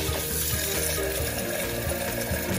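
Ingredients for Lao som pa are washed clean under running water, with a continuous, close rush and splash of water from a tap filling the whole moment.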